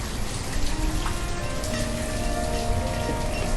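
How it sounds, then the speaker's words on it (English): Heavy rain pouring in the city-building game Banished, a dense, steady patter of drops on surfaces, continuous and fairly loud with no voices. "It's late summer and it's still pouring with rain."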